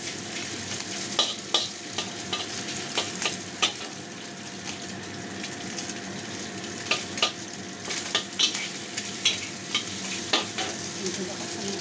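Chinese-style fried rice stir-fried in a pan, a steady sizzle with repeated scraping clacks of a spatula against the metal at irregular intervals, close and moderately loud.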